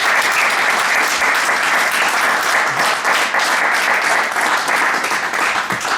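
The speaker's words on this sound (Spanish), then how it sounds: "damos ya por cerrada la charla con un aplauso cariñoso a José Luis y a Maribel." A room full of listeners at the close of a climate talk about the Glasgow summit gives loud, dense applause that holds steady from start to finish.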